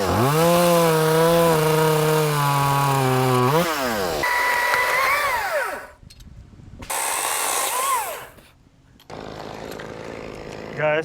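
ECHO 2511T top handle chainsaw cutting wood, a loud close engine held at high revs, then bogging and revving through cuts with brief idle gaps between bursts.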